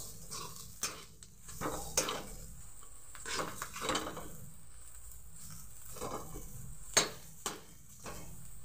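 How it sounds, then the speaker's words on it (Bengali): Potatoes are stir-fried with spices, coriander leaves and chopped green chilli in a pan, heard as faint, scattered scrapes and taps of a utensil against the pan amid quiet pauses. "ভালোভাবে মশলাটার সঙ্গে একটু কষিয়ে নেব"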